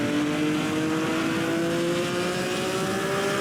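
Early 1950s Grand Prix race cars accelerate hard up an uphill straight at Pau, a loud sustained engine roar with a steadily rising pitch, continuous and close, without any voices.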